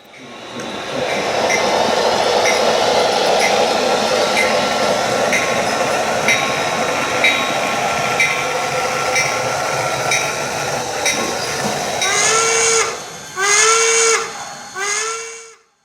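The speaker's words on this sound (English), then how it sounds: "Here we see a small local freight out of Armstrong Yard working the local industries." A model freight train rumbles and clatters steadily along the track, then a few short whistle blasts sound near the end; no talking.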